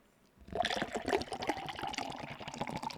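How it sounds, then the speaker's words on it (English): Drink poured into a glass, a liquid splash and fill starting about half a second in and running steadily to the end, close and fairly loud. "The sound of a drink being poured should not sound that good, but it sure does"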